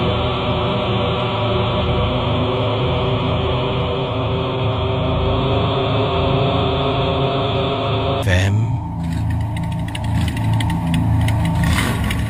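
A motorcycle engine idles steadily at night, a continuous low rumble throughout, then a sharp click and shift around the middle of the clip as the engine note changes and carries on running.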